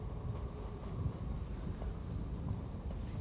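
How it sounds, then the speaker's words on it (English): Wind blowing in the video game Elder Scrolls Online, a low, steady rushing roar with gentle gusting swells, fairly quiet and continuous without any voices. "It's getting windy."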